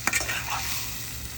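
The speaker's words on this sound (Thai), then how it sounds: "เรากตักลงเลย" Shrimp pad thai is scraped and scooped from a hot pan, a couple of quick sharp utensil scrapes at the start giving way to steady soft sizzling, close and fairly loud.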